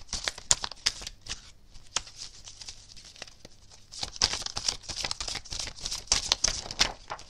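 Tarot cards are shuffled and drawn in quick papery riffles and flicks, close and crisp, coming in bursts separated by brief pauses.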